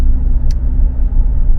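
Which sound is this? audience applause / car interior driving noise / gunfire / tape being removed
car interior driving noise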